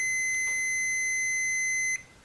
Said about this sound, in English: see just where the beep quits beeping